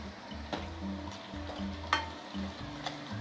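Cumin, tempering seeds, urad dal and chana dal sizzle in hot oil while a spoon stirs the pan, a steady crackling fry broken by a few sharp scraping clicks, close up and without talk.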